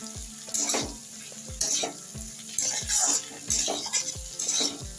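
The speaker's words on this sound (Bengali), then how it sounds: "এবার এটার সাথে এগুলো ভালো করে মিক্স করে দিলাম" Egg and potato bhurji is stirred in a sizzling pan, a spoon scraping in a steady repeating rhythm of strokes over the soft frying hiss, close and clear with no talk.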